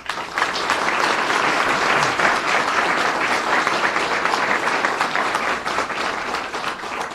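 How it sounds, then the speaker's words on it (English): Audience applause at a governor's bill-signing event, a loud, sustained roar of many hands clapping that holds steady and then eases slightly at the close. "we owe them a round of applause and a real salute for what they've done"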